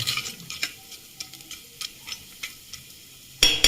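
Dal is poured into a sizzling tempering and stirred, giving a soft crackle with light scraping ticks at a loose rhythm, then a sharp louder burst of sizzle near the end.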